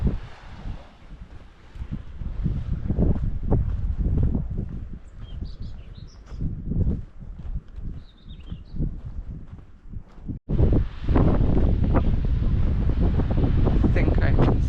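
Wind gusting across the microphone on a coastal walk near the Camel Trail between Wadebridge, Port Isaac and Rock, a steady loud rumble that swells sharply after a brief dropout, with faint surf and birds beneath.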